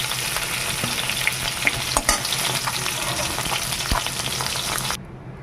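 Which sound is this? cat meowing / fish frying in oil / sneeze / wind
fish frying in oil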